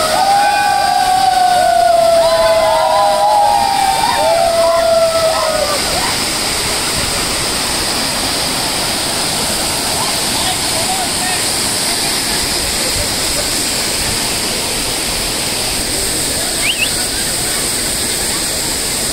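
Small waterfall near Devkund in Raigad, a steady broadband rush of falling water filling the whole scene, close and loud, with a shrill whistle-like call over it in the first few seconds.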